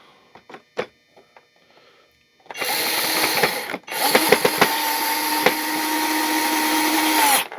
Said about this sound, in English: let's get it started with my power screwdriver